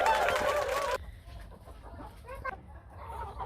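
Chickens on a farm cluck at feeding time, with a dense burst of close clucking at the start followed by quieter scattered calls and faint voices nearby.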